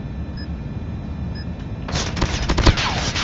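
Gunfire in a clan-war match, likely from a video game, arriving from the side: a burst of rapid, sharp shots after a quieter stretch with faint beeps, moderately loud and close.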